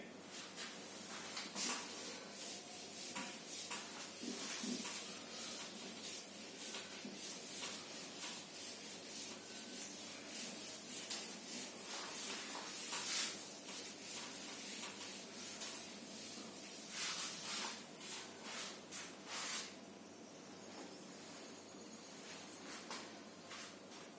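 A teacher wipes a board clean with an eraser during a statistics lecture, giving steady scratchy rubbing strokes in bursts over about twenty-four seconds, close and fairly loud with no talking.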